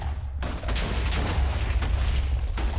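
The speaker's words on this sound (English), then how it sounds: "Just hear explosions." A dense, rumbling burst of booming blasts with crackling noise, loud and continuous, like Minecraft Nether explosions going off close by.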